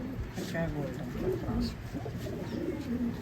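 Desi pigeons on a rooftop in Pathankot coo softly in low, repeated throaty calls close by, with a person talking over them.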